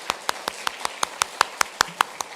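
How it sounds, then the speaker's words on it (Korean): At a Korean Easter Sunday church service, a congregation welcomes the pastor's family with a steady run of sharp, evenly spaced hand claps, about a dozen distinct crisp slaps in quick rhythm, close and clear. "우리 박수로 환영해 주시기 바랍니다"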